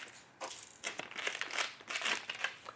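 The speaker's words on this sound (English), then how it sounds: "I guess I'm gonna need to use scissors to cut this" Plastic packaging for an Aukey DR02 dashcam crinkles and crunches in close, irregular bursts as it is cut open with scissors, with no talking.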